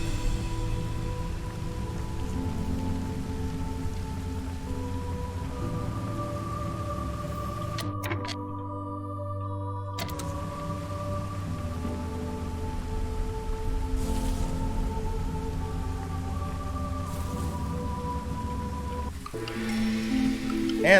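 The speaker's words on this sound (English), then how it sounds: "And back to the drizzle." Drizzle in the strategy game Against the Storm, a faint soft patter of rain behind sustained tonal game music, with a brief hush in the middle and no voices.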